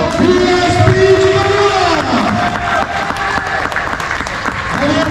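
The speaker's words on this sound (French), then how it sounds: "On les applaudit bien fort" Applause and cheering from a tournament crowd in a hall honouring the winning team at a final, loud and sustained throughout, with a voice on a PA talking over the clapping.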